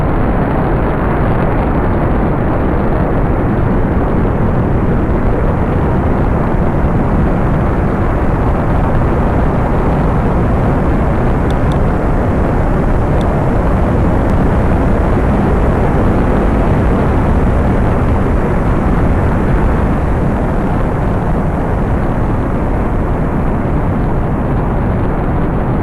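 Rocket lift-off in the video game Space Flight Simulator: a loud, dense, continuous roar of engine thrust that holds steady for the whole stretch without letting up.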